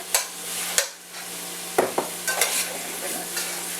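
Spanish chorizo sautéing in a pot for bean soup, a soft steady sizzle broken by several sharp scrapes and clanks of a spoon stirring against the pot, close and clear with no talking.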